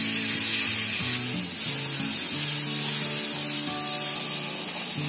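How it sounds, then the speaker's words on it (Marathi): Grated coconut and sugar heating in a pan over a low gas flame, a steady close sizzle and hiss that fills the whole stretch with no voices. "आता हे आपल्याला चांगलं मिश्रण साखर जिरेपर्यंत आपल्याला गरम करून घ्यायचं आहे"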